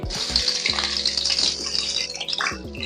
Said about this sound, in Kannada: ಇಷ್ಟನ್ನು ನಾವು ಇವಾಗ ಫ್ರೈ ಮಾಡ್ಕೋಬೇಕು ಸ್ವಲ್ಪ ಕಲರ್ ಚೇಂಜ್ ಆಗೋವರೆಗೂ ಸ್ವಲ್ಪ ಫ್ರೈ ಮಾಡ್ಕೋಬೇಕಾಗತ್ತೆ